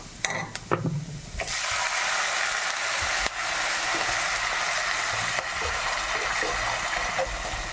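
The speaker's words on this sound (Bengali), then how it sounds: "এবারে আমি কড়ার মধ্যে জল দিয়ে দেবো।" Water poured into a hot pan (kadai) of fried mung dal, a steady broadband sizzle and bubbling that starts after a couple of sharp clicks and continues loud and even, with a brief stir knock partway.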